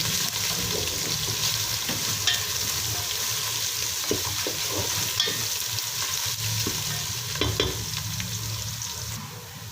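Ginger and garlic frying in a pan, a steady close sizzle running throughout with repeated scraping and stirring strokes of a spoon mixing them in.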